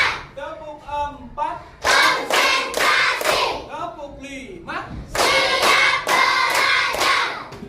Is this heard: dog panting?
no